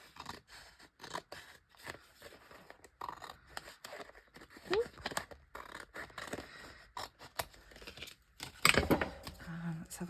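Scissors snipping off bits of tracing paper, a few quiet crisp cuts and rustles followed by a sharper burst of cutting near the end, close up with soft speech around it.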